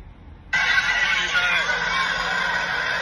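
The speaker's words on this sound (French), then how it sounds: "Voilà le coq blanc." A white rooster crows in one sustained, loud, strained call that starts abruptly and holds to the end, with faint background noise.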